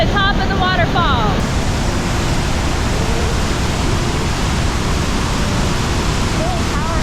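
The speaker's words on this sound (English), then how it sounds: "This is the top of the waterfall." A powerful waterfall thunders steadily from close range at the top of a canyon along the Icefields Parkway. A short voice sits on top of the roar near the start.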